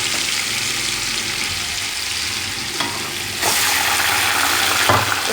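Chicken pieces frying in a pan of dark-browned onions with ground ginger and garlic, a loud, steady sizzle with stirring scrapes and a sharper burst of hiss partway through.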